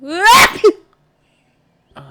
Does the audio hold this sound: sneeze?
yes